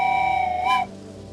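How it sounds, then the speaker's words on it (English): Steam-style train whistle from a train video game, a sustained multi-tone blast that swells slightly before cutting off, loud and alone with a faint tail afterward. "let's get a train whistle going"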